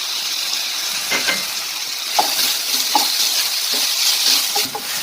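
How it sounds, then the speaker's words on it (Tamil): Tomatoes sautéing in hot oil with ginger garlic paste for an Indian bean seed curry, a steady close sizzle with a few soft stirring scrapes, no voices. "தக்காளி நம்ம போட்டு வதங்கிடுச்சு"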